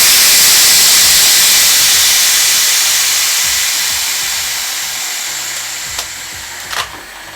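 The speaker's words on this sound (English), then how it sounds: "turn the gas off first and then depressurize the keg, because this is full" Pressurized CO2 gas rushes out of a full plastic beer keg as it is depressurized, a loud, steady hiss that slowly weakens, followed by a couple of brief clicks near the end.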